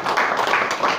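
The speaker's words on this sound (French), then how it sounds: "Applaudissons-nous l'Éternel." A church congregation at a French-language service claps together in a dense, steady wash of applause for about a second, fairly loud and with no talk over it.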